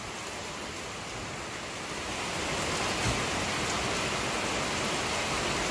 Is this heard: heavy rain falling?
yes